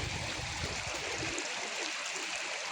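Steady broadband rushing of a flowing stream beside a temple, continuous and fairly close, with a low rumble fading out midway.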